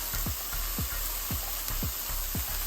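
Dried garden basil and curry powder stirred into chickpeas in a hot pan, a continuous sizzle with regular scraping strokes of a spoon about every half second, close and steady.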